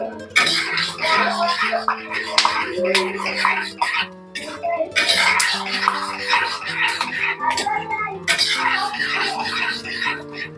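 Peanuts stir-fried with a little oil in a pan for a homemade evening snack, giving repeated scraping and clattering of a spoon against the pan, with steady music and voices running beneath throughout.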